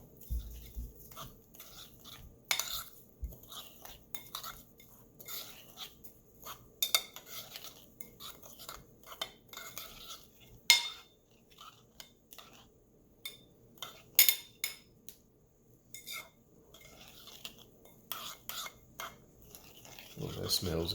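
A spoon mixes a spicy sauce for Korean salmon in a bowl, making soft, irregular clinks and scrapes close by with quiet gaps between them.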